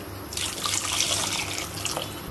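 Water pours steadily into a pot of rice, a continuous splashing stream heard close for about two seconds, with no talking.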